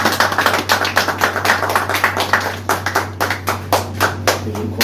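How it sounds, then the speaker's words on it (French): A ceremony audience of a cosmetics company's recognition event claps steadily for several seconds, a dense, rhythmic patter of many hands over a low constant hum. "Applaudissez encore une fois pour elle."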